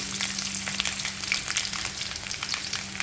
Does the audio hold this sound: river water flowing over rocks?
no